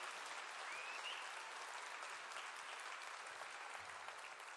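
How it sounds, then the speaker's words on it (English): Steady applause from a concert audience at a ten-year anniversary folk concert, broad and sustained throughout, heard from a distance with a faint whistle briefly rising above the clapping. "Another round of applause for them."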